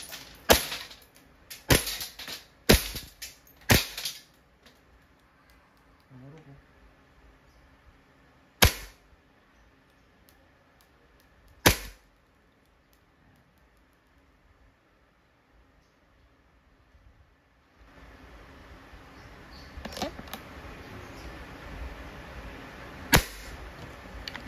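A WE T-Rex Hi-Capa green gas airsoft pistol fires sharp, loud single cracks, a cluster of quick shots followed by two spaced shots, then a few more after a quiet stretch of background hiss.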